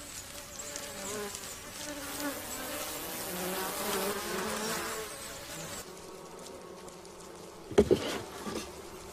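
Swarm of Asian honeybees buzzing continuously after killing a Japanese giant hornet scout, a dense steady drone that thins out partway through, followed by a couple of brief louder knocks near the end.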